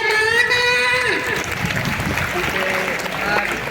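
Applause from a religious gathering's audience fills the air, a steady broad wash of clapping beneath and around a voice speaking over it from start to finish.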